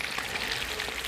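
Chopped onion sizzling in a pan of melted butter for chicken chakhokhbili, a steady close crackling fry that fills the whole moment with no voices.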